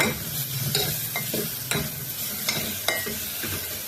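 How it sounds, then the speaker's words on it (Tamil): Garlic, coriander, curry leaves and dried chilli frying in hot oil for pepper rasam, a close, steady sizzle broken by repeated stirring scrapes and clatters, with no talking. "பூண்டு, கொத்தமல்லி, கருவேப்பிலை, காஞ்ச மிளகா இது வரைக்கும் நம்ம வந்து இதில் போட்டு நல்லா வதங்கினாங்க"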